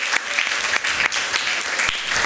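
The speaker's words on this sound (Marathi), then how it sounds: "टाळ्या वाजून देवाला धन्यवाद देऊया" Congregation at a Marathi Christian church service breaking into steady applause together, a dense continuous clatter of many hands at close range, with no speech over it.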